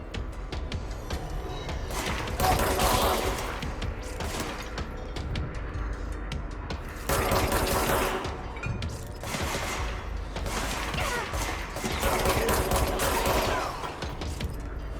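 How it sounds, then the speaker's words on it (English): Service handgun from the game Control firing in rapid, dense bursts, loud and close, with sustained volleys around mechanical clatter and no talk. "the fire rate on this service handgun is actually really good"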